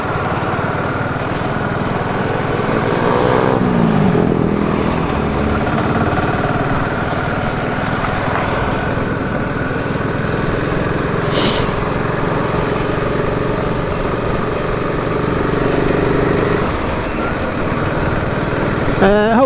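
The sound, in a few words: BSA Goldstar 650 motorcycle engine running, exhaust note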